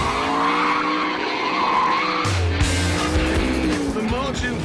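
A Noble M600 supercar with traction control switched off skids hard, tires squealing in long wavering screeches over a loud roaring engine, close and continuous, with someone talking over it.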